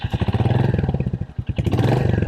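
A Royal Enfield Hunter 350 motorcycle idling close by, its single-cylinder engine thumping in a fast, even pulse with a brief dip and a light blip of throttle partway through.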